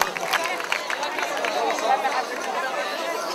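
Church congregation applauding during a Spanish-language evangelical service, a dense burst of many hands clapping close by, with a murmur of voices mixed in.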